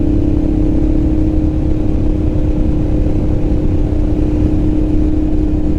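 A Honda NT650 motorcycle cruising at speed, its engine drone a steady, loud low hum blended with heavy wind rush, unchanging throughout with no talking.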